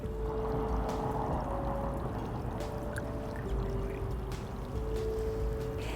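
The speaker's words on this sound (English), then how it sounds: "You are going to fill the plastic container to the 10 milliliter line." Water is poured into a plastic sample container up to the 10 milliliter line, a close, steady trickling splash that runs evenly throughout.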